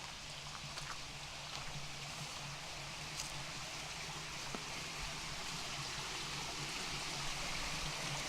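Steady rushing of water flowing through a culvert beside the Katy Trail, a continuous soft wash of sound with no talking.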